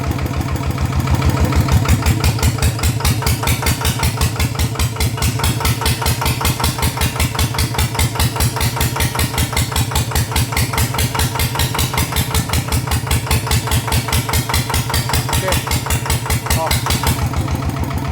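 A small Yanmar diesel engine, upgraded to a 100 mm bore with a valve-relief cam, chugs steadily with a fast, even rattling beat, holding a constant rough idle throughout, close up and loud.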